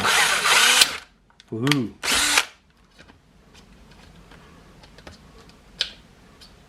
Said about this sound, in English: That way I can get a good drill on this guy.